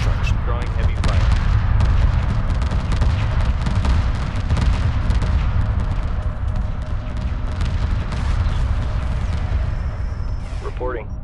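Heavy weapons fire in the space strategy game Homeworld Remastered, a dense, continuous barrage of booms and gunfire at steady loudness throughout, with faint voices beneath.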